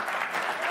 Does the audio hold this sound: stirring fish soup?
no